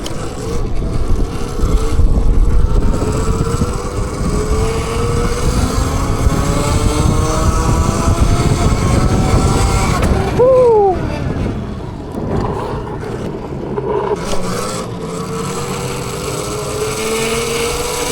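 An electric dirt bike's motor held at full throttle produces a steady rising and falling whine under heavy wind rush, with a brief pitch sweep as the rider shifts speed outdoors.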